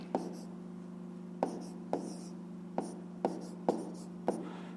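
Handwriting while working a fifth-grade maths fraction exercise: short scratchy strokes in bursts, roughly every half second to a second, close and soft over a steady low hum.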